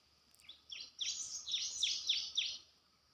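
Cimblek birds call outdoors in a run of about six quick, high chirps in a steady rhythm, fairly close and clear over faint background noise.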